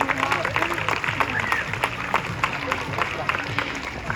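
Crowd at a zoo sea lion show clapping for Nora, a continuous patter of applause with voices and background noise mixed in.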